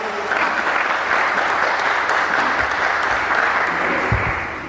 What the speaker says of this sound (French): Sous vos applaudissements quand même